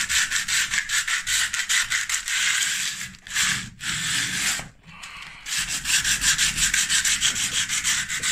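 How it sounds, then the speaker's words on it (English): Wood being sanded by hand with rolled-up sandpaper, loud rhythmic back-and-forth rubbing strokes with a few brief pauses, close and with no talking. "Give you a nice little rolly sandpaper."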